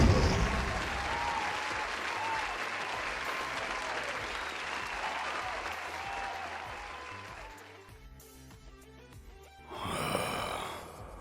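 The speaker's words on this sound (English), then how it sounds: "where the fuck is that canned applause coming from?" Canned applause plays steadily for several seconds, the clapping thinning out before a brief breathy burst near the end.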